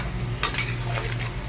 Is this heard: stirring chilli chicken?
yes